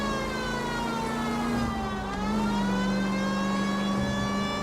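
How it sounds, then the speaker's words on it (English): Police siren wailing from a car in the L.A. Noire video game, a steady loud tone that sweeps down and back up midway, with engine noise underneath and no talk. "This calls for the siren."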